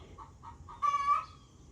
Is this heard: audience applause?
no